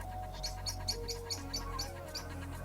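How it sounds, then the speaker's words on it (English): A blackbird sings near a fort on the Isle of Sheppey, giving a steady series of short, bright chirping notes at a moderate distance over low background hum, with no talking. "Now that blackbird's going to start again."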